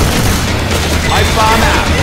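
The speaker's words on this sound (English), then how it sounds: "Can we stop shooting each other?" Dense gunfire between players in Left 4 Dead 2, a continuous loud rattle of shots with a heavy low rumble throughout, with game noise filling the whole stretch.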